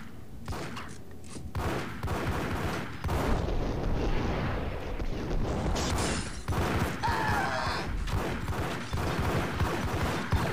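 Dense, continuous gunfire in the video game Max Payne: rapid overlapping shots and bursts keep up a loud, chaotic barrage across the whole stretch, with no talking.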